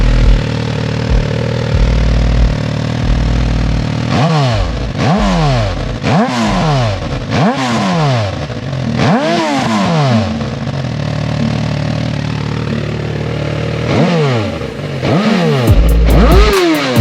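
Suzuki GSX-R 1000 motorcycle with a full exhaust, warmed up and in neutral, idling loudly up close, then blipped through a series of sharp revs that rise and fall, a pause at idle, and more revs near the end.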